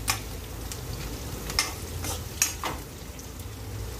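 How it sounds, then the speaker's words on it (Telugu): Green chillies frying with onions in a pan for wheat rava upma, a steady oil sizzle with intermittent sharp ticks and scrapes as the mixture is stirred. "ఒక నిమిషం ఆనియన్స్ ఫ్రై అయ్యాక మనం పచ్చిమిర్చి వేసుకుందాం, వాటిని కొంచెం కలుపుకుందాం."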